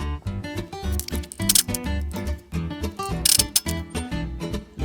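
A ratchet turning a hub socket on a Dana 44 front axle hub clicks and clatters in quick uneven runs, close and fairly loud, with metallic knocks between strokes.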